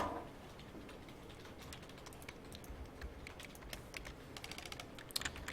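Computer keyboard keys tapped in quick irregular bursts while typing code, faint and close, with clicks growing denser toward the end and no talking.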